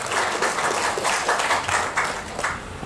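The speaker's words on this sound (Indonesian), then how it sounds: "Kita berikan aplaus sekali lagi." A crowd at a formal public ceremony in Papua gives sustained applause for a speaker, dense clapping from many hands filling the room steadily for a few seconds with no voices on top.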